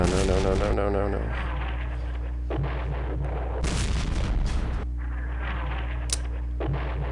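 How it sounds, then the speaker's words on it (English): Artillery fire in the wargame Campaign Series West Front lands as a series of heavy booms and rumbling blasts over a constant low hum, with a voice briefly heard at the start. "Oh no! It's wild artillery."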